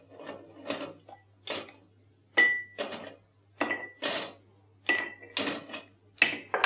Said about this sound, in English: And then we're going to fill this glass with ice.